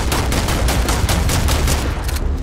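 Rapid gunfire in the video game Starfield, loud and close with shots in a fast, even rhythm throughout and no talking.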